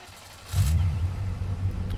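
A car engine starts up in the video game State of Decay, a sudden low rumble that settles into a steady idle, close and fairly loud, with no voices.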